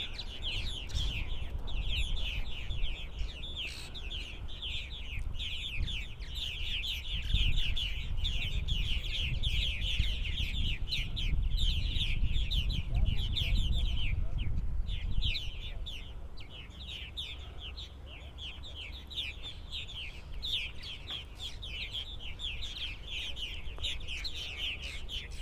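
Evening chorus of purple martins at a migration roost holding tens of thousands of birds, a dense continuous mass of chirps and chatter, steady and fairly loud throughout, with a low rumbling background.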